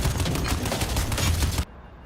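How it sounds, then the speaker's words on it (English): Mounted machine gun in the video game Crysis 3 fires a dense, loud stream of rapid bursts for about a second and a half, then cuts off abruptly into quiet background. "I decided to use this mounted machine gun to kill"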